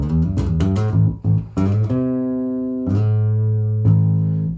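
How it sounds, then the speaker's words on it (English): Electric bass notes played cleanly through a cheap audio interface, a few plucked runs followed by sustained low tones ringing out, recorded directly with no background noise. "I've got my bass here, it's plugged in."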